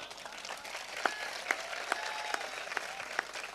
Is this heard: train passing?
no